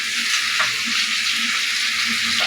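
Bottle gourd pieces tossed into cooked-down spiced masala for a rohu fish curry sizzle steadily in the pan, a constant loud frying hiss with occasional stirring knocks.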